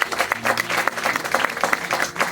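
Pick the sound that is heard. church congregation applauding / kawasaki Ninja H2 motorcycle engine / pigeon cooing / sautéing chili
church congregation applauding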